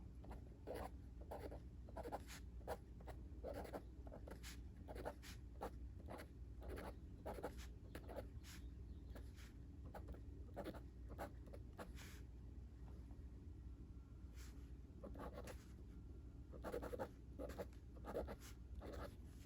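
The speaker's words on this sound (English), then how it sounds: "it's certainly scratchy, but you know, that's the case with virtually every glass nib pen" Glass-nib eyedropper fountain pen scratching across paper in a steady run of short strokes, close and fairly quiet, with a few brief pauses between bursts of writing.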